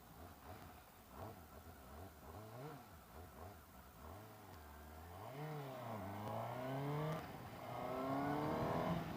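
A 2020 Suzuki GSX-S750 motorcycle engine revs up through rising gears, its pitch climbing and dropping between shifts, then building to a strong sustained pull over wind rush close to the rider.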